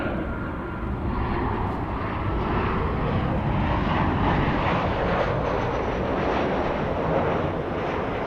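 An American Airlines Boeing 737 in traditional colours lands at Los Angeles airport (LAX), its jet engines a loud, sustained roar with gusting wind noise across the microphone and no voices.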